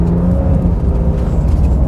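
Stripped-down Porsche sports car engine with reduced sound insulation, driven on snow, a loud steady engine drone with rumble from snow kicked into the wheel arches, close and continuous with no talk.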